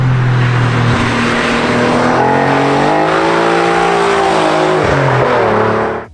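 An Alfa Romeo 147 GTA's 3.0-litre naturally aspirated Busso V6 revs loudly and up close, pitch climbing smoothly through the rev range, dipping briefly, then rising again before cutting off abruptly.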